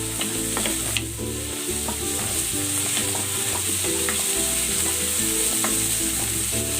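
Hard pechay stalks sautéing in a pan, a steady close sizzle with repeated clicking stirs and scrapes of a spatula throughout.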